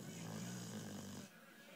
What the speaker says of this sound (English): Yeah, you should snore about it.